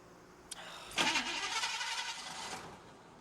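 A car engine cranks briefly and catches, settling into a steady close idle hum for a couple of seconds before fading, with no talk over it.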